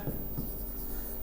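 A pen moves across paper in brief, continuous handwriting, giving a soft, steady scratching sound against a noisy background.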